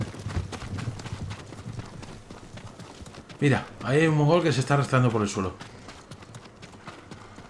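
Horses' hooves clatter steadily in Ghost of Tsushima, a quick running rhythm that continues under a voice talking over the middle of the clip.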